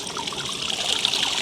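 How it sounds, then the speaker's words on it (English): Water trickles and splashes steadily as treated compost is dissolved into it to make compost tea on a farm, a continuous close pouring, bubbling sound with no voices. "I'm coming to dissolve a treated compost"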